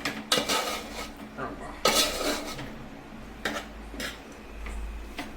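A metal spoon stirs and scrapes egg fried rice in a pan, with several distinct clanks and clinks against the metal and a soft sizzle underneath.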